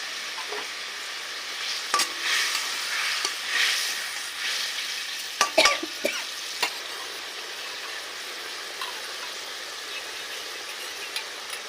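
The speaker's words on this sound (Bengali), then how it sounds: "এবারে পটলগুলো দিয়ে দেবো।" Pointed gourd (potol) frying in a pan for a Bengali malai curry, with a soft continuous sizzle and scattered scraping stirs, one cluster of louder clatters midway, no talking.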